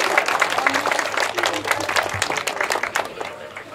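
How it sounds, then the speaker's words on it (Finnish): A crowd at a tractor pulling contest applauds the winners steadily, dense clapping from many hands, fairly close and loud, tapering slightly at the end. "annetaan vielä aplodit voittajille"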